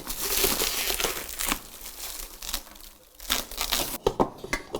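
Plastic packaging crinkles and crumples close by as it is pulled off a large 7-quart stainless bowl from an Efficient Kit commercial stand mixer, in several bursts with a brief lull midway.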